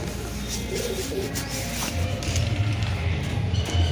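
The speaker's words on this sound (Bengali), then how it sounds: "সুরজিৎদার কটা পায়রা সেল করবে।" Pigeons cooing inside a small home loft in Bandel: low, repeated throaty coos from several birds close by over a constant background hum.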